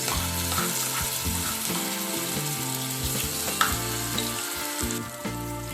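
Ginger garlic paste fries in hot oil in a pan with whole spices for Mughlai chicken, making a continuous close sizzle with occasional light scrapes. A steady background hum sits beneath it, and no one speaks.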